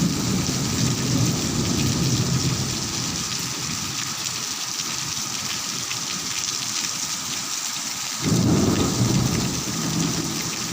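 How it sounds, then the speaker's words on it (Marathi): Deep rolling thunder rumbles through steady unseasonal rain over a farm field, fading and then swelling again near the end, close and loud. "विजेचा पूर्ण गडगडाट सुटलाय"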